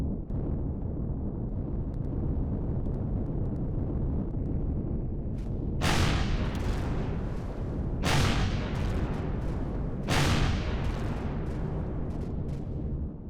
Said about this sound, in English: who's firing at me from the ground?